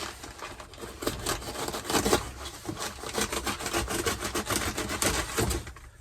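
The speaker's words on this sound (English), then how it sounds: "Got a little bit of cardboard here I need to cut off because I can't pull this flap down." Cardboard being cut off a shipping box, a close, rough rasping of repeated sawing strokes in an irregular rhythm, heard alone without talk.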